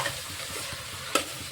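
Brief stirring of tomatoes frying in a pan with salt and turmeric, a soft sizzle under a scraping spoon, ending in a sharp clink of the utensil against the pan.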